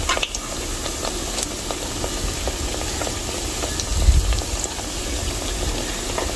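Bake dough sizzles and bubbles steadily in hot oil, a continuous close frying hiss with faint crackles and no voices.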